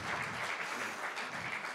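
A brief burst of congregational applause for Jesus during a Spanish-language church sermon, clapping fairly distant and soft, lasting under two seconds.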